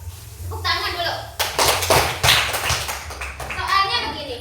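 A class of fifth-grade primary school children in a classroom applauds in a burst of rapid, overlapping clapping that swells and lasts a few seconds, with children's voices and chatter mixed in around it.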